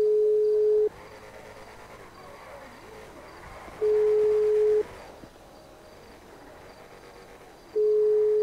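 Phone ringback tone during a call in the video game GTA 5, a steady pure electronic beep repeating roughly every three seconds with silent gaps between rings, clear and alone.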